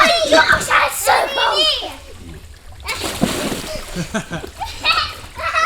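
A child slides down a small water slide and splashes into water, with excited children's voices and chatter throughout, sloshing and splattering nearby.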